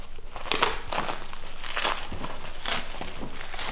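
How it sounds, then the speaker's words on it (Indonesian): Unboxing a package holding a stainless steel five-compartment Ecentio lunch box: loud, close crinkling and crunching of plastic packaging in repeated bursts, with no talk. "Langsung saja kita unboxing sekarang juga guys paketan ini."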